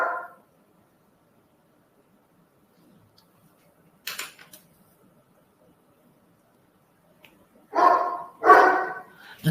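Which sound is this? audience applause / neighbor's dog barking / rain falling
neighbor's dog barking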